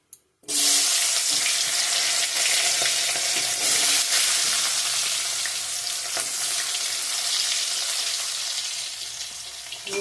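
Onions frying in hot oil left over from frying rohu fish, a loud, steady, broad sizzle that starts abruptly and holds throughout with occasional stirring scrapes, no voices.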